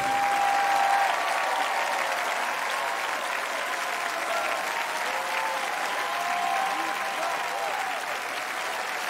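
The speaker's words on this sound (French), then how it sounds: "Chantal, on peut l'applaudir très fort." An audience applauds the singer Chantal after a holiday choir performance, steady and sustained clapping throughout with faint voices and a few sung or spoken tones mixed in underneath.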